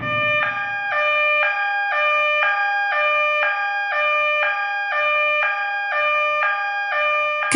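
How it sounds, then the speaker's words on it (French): A French driving-test emergency alert siren wailing steadily, alternating high and low notes in an even rhythm about twice a second, loud and continuous with nothing else over it. "La sirène retentit."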